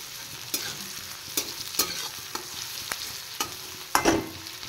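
Onion, garlic and grated ginger fry gently in a pan, with a steady soft sizzle broken by several sharp scraping stirs of a spatula at irregular intervals; no one speaks.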